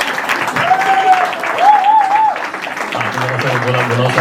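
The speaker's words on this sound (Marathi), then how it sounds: "जरा मला टाळ्या वाजवून स्वागत करा" Audience applause welcoming a speaker at a Marathi talk, a full, fairly close round of clapping that swells and holds, with a brief tonal whistle-like sound riding over it and a low hum entering near the end.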